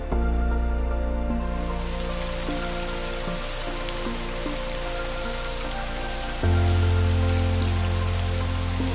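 Rain falls steadily on city streets in Japan, a dense, continuous patter and hiss heard close up, with a low steady hum underneath that briefly grows louder near the end. No one speaks.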